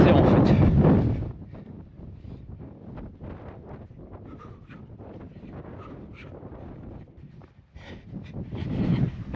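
Strong wind buffeting the microphone on an open plateau during a winter trail marathon, heavy low rumbling gusts at the start and end with lighter rustling between.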